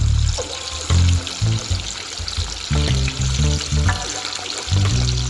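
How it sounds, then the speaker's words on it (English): Fish fry in hot oil with garlic and pepper for a curried fish rundown, sizzling loudly up close with bubbling bursts and crackles that swell and ease in uneven waves. "when we go fry fish, we add garlic into the oil and pepper"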